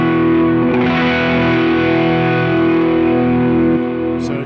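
An electric guitar played through an ODR overdrive pedal rings out loud and sustained, a thick distorted chord that holds steady before fading slightly near the end.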